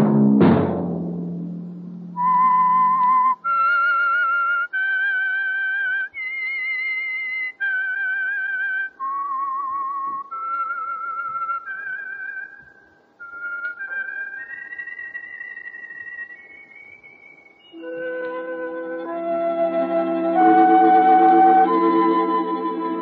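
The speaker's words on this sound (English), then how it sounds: "Let that whistle be your signal for the Whistler, each Wednesday night at this same time." A radio drama's signature whistle: a lone whistled melody of sustained, sliding notes, clear and close, followed by a swelling orchestral sting as the theme ends.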